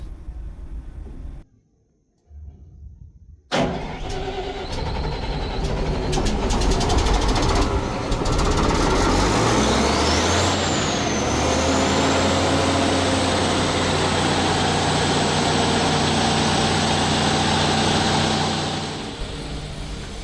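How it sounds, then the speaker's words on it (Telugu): A ship's deck generator at sea cranks after a brief silence, then catches and runs, its loud engine drone rising in pitch and holding steady before easing off near the end. "ఇదే నేను చెప్పిన deck generator and now we are going to start this"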